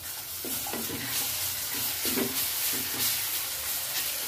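Scraping and stirring of frying onion with ginger garlic paste in a hot pan, with a steady sizzle underneath, several stirring strokes close by, no voices.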